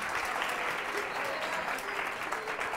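A studio audience on a Catalan TV word quiz show claps steadily, a dense even burst of applause at close range with no pause throughout.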